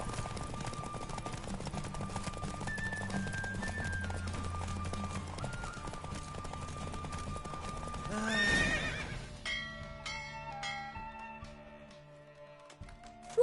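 Horse hooves clip-clop rapidly in a steady gallop beneath layered music in The Witcher 3: Wild Hunt, with a whinny and a burst of sound effects before the music shifts.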